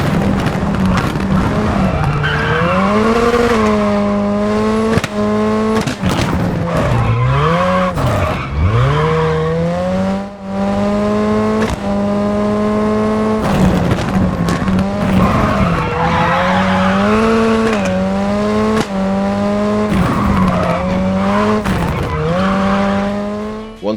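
A 2000–2009 era WRC rally car in the WRC 10 video game revs hard and loud throughout, its engine and exhaust rising and falling through gear changes with tire squeal and skidding, no talk.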